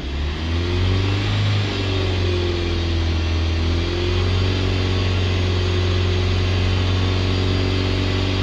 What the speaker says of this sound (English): Okay, start the engine back up.